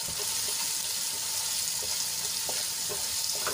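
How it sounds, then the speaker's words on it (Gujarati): Finely chopped onions sizzle steadily in hot oil in a pan while being sautéed for a Gujarati vegetable dish, with a close crackling hiss and occasional stirring clicks. "ડુંગળીને આપણે ગુલાબી રંગની થાય ત્યાં સુધી સાંતળી લેવાની છે"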